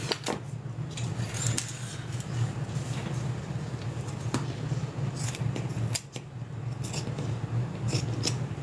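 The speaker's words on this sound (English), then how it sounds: "We're gonna cut the excess off." Scissors trimming excess fabric from a sewn bag, a continuous run of close, crisp snipping and rustling cuts, no voices.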